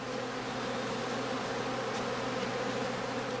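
Thick, unbroken buzzing of many honey bees crowded around a heather skep in an autumn apiary, near and steady throughout, no speech.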